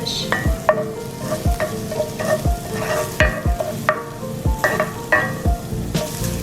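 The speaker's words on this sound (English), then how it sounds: "So we're gonna let this stir fry a bit." Tamarind devil jumbo shrimp stir frying in a pan, with a steady sizzle broken by repeated scraping stirs and clanks of the utensil against the pan, close and clear with no talking.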